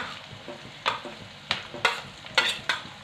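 Grated coconut sautéing in oil for drumstick curry, a low sizzle punctuated by about eight regular spatula scrapes and stirs, close and clear with no talking.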